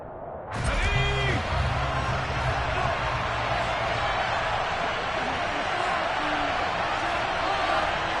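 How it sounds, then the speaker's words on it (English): Home football crowd in the Madden 23 video game roars up suddenly and keeps a loud, dense cheering wash that holds steady to the end, with a brief whistle-like tone near the start. "now the home team crowd, they are fired up"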